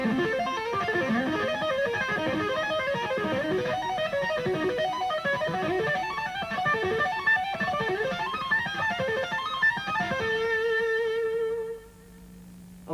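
Electric guitar playing a fast lead lick in a repeating pattern that climbs by minor thirds, bright sustained notes running continuously for about eleven seconds before settling on a final held note.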